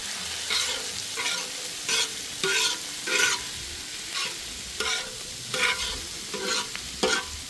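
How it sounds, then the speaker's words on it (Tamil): Onions and beans sauté in a pan for an Italian frittata, with a steady sizzle and repeated scraping stir strokes at a regular rhythm, close and moderately loud. "இப்போ வெங்காயம் பீன்ஸு எல்லாமே 3/4 பதத்தில் நம்மளுக்கு வதங்கி வருது"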